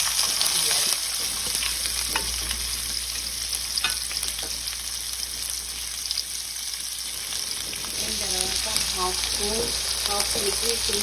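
Onion and green chilli fry in hot oil in a pan, giving a steady, close crackling sizzle throughout with brief spatters and a faint voice near the end.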